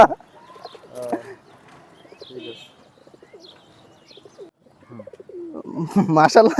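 Pakistani-breed flying pigeons in an old cage give soft, low cooing calls with occasional chirps, faint and intermittent between quiet stretches, while someone talks nearby and louder rustling rises at the end.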